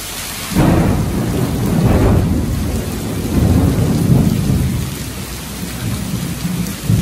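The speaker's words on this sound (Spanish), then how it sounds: "Lloviendo muy fuerte ahorita." Heavy rain pours steadily in Nicaragua while loud thunder rumbles through it, a deep roll near the start and further booming swells, continuous and close with no talking.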